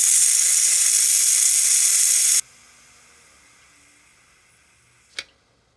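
Ninja Foodi pressure cooker venting steam, a loud steady hiss that cuts off abruptly after a couple of seconds, followed by quiet and a single short click near the end.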